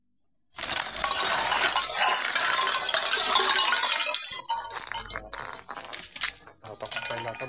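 Cans and bottles clink and rattle continuously in sacks of scrap on a street, dense metallic and glassy clatter up close, thinning into scattered knocks and rustles toward the end.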